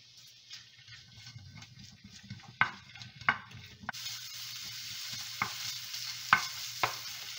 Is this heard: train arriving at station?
no